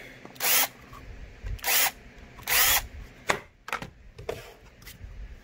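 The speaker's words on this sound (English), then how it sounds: "And then you're gonna take your countersink." Power drill spinning a countersink bit into a workpiece, three short loud whirring bursts close by, followed by several sharp clicks and taps.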